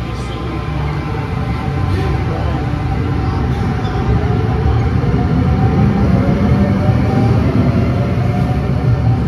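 Onboard a Casaralta suburban electric train with power distributed across all bogies, running at speed: a loud, steady rumbling roar with rising motor whine, continuous and close.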